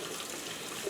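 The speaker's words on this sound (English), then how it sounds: "that way the water can kind of run through everything all at the same time" Warm water runs from a tap over tie-dyed fabric during rinsing, a steady close splashing rush with no voices.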